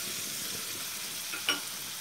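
Pork fat rendering in a pan with a soft, continuous sizzle and crackle, a brief stir or pop near the middle, steady and moderately close.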